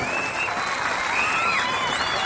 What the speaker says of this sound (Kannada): ಹೊಡೆದ ಚಪ್ಪಾಳೆ ಜೋರಾಗಿ